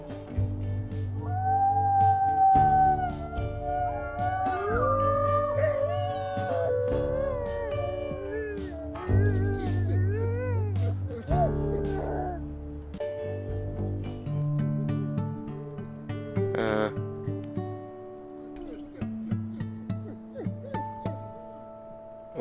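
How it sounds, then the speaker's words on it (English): Wolves howl in a video game, long wavering howls rising and falling in pitch and overlapping one another, set over a sustained low musical drone and ending in sparser, fainter tones. "I'm gonna go hunt and howl a bit."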